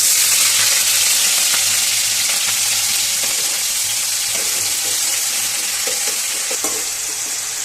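Onion paste fries in hot oil with green chillies and bay leaf for a chana masala, a loud, continuous close-up sizzle that holds steady, with faint stirring scrapes.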